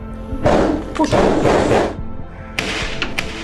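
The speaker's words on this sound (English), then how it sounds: "Suddenly, a new round of gunfire." Bursts of sharp cracking gunfire come in two loud clusters, with a pause between them, echoing as if indoors.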